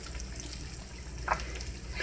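Salmon croquettes coated in cornmeal fry in oil with a faint, steady sizzle and a soft hiss throughout, plus a brief clink partway through.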